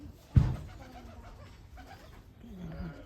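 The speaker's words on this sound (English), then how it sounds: "Pigeon." Pigeons cooing nearby, soft low throaty calls after a brief sharp thump at the start.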